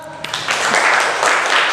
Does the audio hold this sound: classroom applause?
yes